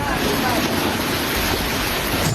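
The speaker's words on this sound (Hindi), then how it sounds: "यह है गंगा की वो विनाशक लहर जो बलिया के इस गांव में तबाही बनकर आई।" Ganga floodwater surges through a village in Ballia, a dense, unbroken roar of rushing water and wind-buffeted noise, loud and close throughout the short stretch with no clear voices.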